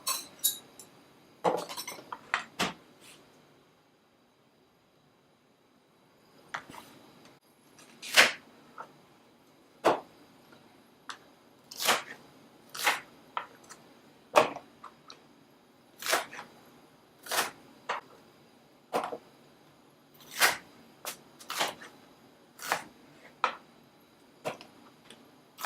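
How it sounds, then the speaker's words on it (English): A knife chops onions into chunks on a board, a string of sharp, clicky knocks, some in quick bursts and others spaced out, after a brief quiet gap, close and fairly faint with no talking. "So now we're going to cut the onions into chunks and we're going to put them into this container."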